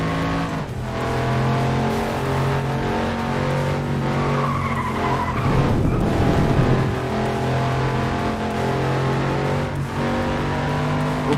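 A very quick race car in FlatOut 2 roars around a tarmac racing track, its engine droning steadily with a loud tire squeal and skid swelling midway before the revving resumes.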